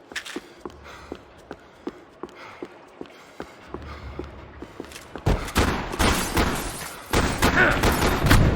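Gunfire in the video game Max Payne 3: sharp single shots crack at a steady, spaced rhythm, then give way to a loud, dense barrage of rapid shooting and impacts.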